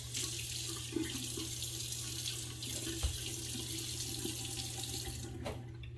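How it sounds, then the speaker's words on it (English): A bathroom tap runs in a steady, moderately faint hiss of flowing water while splashes are scooped onto a face during shaving, with soft irregular sloshes over the continuous stream. "I'm gonna put some water on the face real quick."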